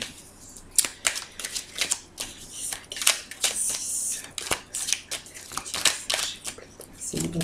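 Oracle cards are shuffled for a card reading in a quick run of crisp riffling snaps and slaps, close and fairly loud, with brief gaps between bursts.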